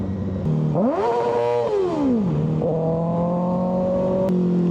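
A Kawasaki ZX6R 636 sport motorcycle revs loudly up close, its engine pitch rising and falling across several throttle blips, and the exhaust gives a short pop near the end.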